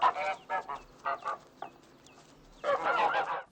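Flock of geese led through a narrow rural path, honking in loud, nasal bursts that repeat irregularly and swell into a dense chorus near the end.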